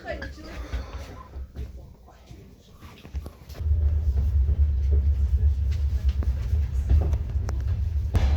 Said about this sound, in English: this train is definitely a step up from the last one